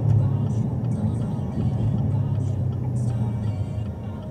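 A 2017 Chevrolet Camaro ZL1 with a manual gearbox drives along with a steady low engine rumble and road noise, while people talk over it inside the car.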